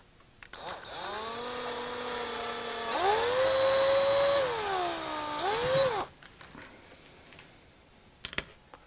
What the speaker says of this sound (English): first I'm going to drill that out